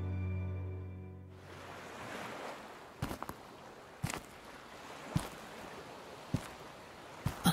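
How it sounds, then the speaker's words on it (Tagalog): Sea waves wash and surge in a continuous broadband roar after a brief tonal intro, with soft periodic crashes and gusts of wind buffeting the microphone. "Ang ganda ng alon."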